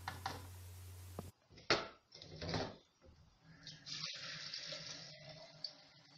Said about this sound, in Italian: Aggiungo 3 litri di acqua